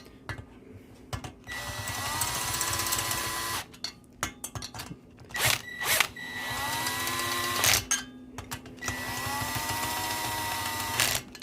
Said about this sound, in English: I'm just going to use it to run the bolts all the way down.